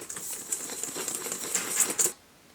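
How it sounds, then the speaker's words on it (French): A whisk stirring salt, flour and sugar in a stand mixer bowl for brioche dough, a fast, steady, light clattering patter that stops abruptly. "Avec le fouet, je viens ici mélanger."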